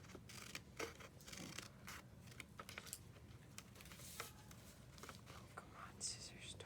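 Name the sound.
scissors cutting paper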